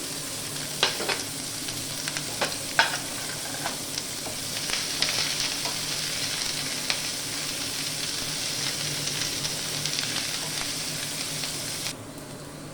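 Onions sizzle steadily in a hot pan, frying until browned, a continuous hiss with occasional sharp clicks of stirring, no voices.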